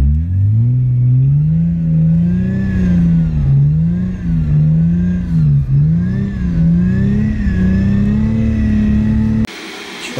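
A car engine and exhaust rev hard through a corner, a loud close drone that swells and dips in pitch rhythmically, cutting off abruptly near the end.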